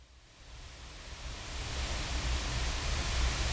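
A PSP InfiniStrip preamp plugin adds a broad, steady hiss that swells slightly over a few seconds, with no talk and no other sound.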